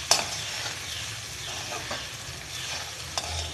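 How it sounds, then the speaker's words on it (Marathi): Flattened rice stirred in a pan for a quick breakfast poha, a soft continuous scraping and faint sizzle with a few sharper spoon knocks near the start and end, fairly quiet and steady throughout. "पोहे टाकले की छान यांना हलवूयात"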